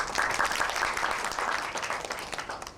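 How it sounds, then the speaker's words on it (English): An audience claps for a guest from a Cambodian bank at a 2002 event in Thailand, a dense burst of applause from many hands, fairly near, tapering slightly toward the end. "we can have a round of applause"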